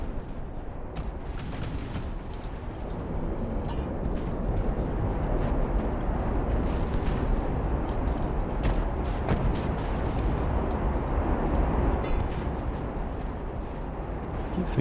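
Naval 8-inch guns fire in the warship battle game Ultimate Admiral: Dreadnoughts, a dense rumbling roll of distant booms and blasts layered over constant low battle noise.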